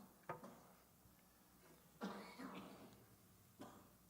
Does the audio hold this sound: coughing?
yes